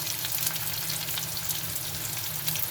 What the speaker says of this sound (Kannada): ಇವಾಗ ಇಲ್ಲಿ ಎಣ್ಣೆ ಕಾದಿದೆ. ಸೊ ನಾನು ಇದಕ್ಕೆ ಹಚ್ಚಿಟ್ಕೊಂಡಿರೋಂಥ ಈರುಳ್ಳಿ ಹಾಕ್ತಾಯಿದ್ದೀನಿ